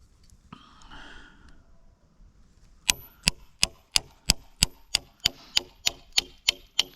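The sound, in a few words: chisel cutting into round log joinery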